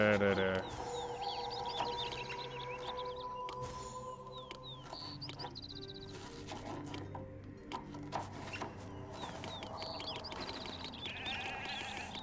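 Sheep bleating in the video game Poseidon Master of Atlantis, several overlapping bleats and chirpy game sounds over background music, with a voice talking across the scene.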